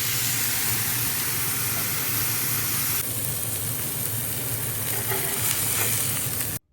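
Butter sizzling loudly in a frying pan before eggs go in, a dense continuous hiss and crackle close by that eases slightly partway through and cuts off abruptly at the end.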